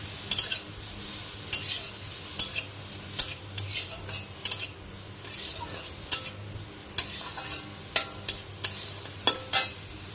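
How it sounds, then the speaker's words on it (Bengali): Prawns frying in a wok with salt and turmeric, a steady close sizzle broken by regular sharp scrapes and clinks of a spatula stirring against the pan. "সামান্য একটু লবণ আর সামান্য একটু হলুদ দিয়ে চিংড়ি মাছটাকে ভেজে তুলে নেব"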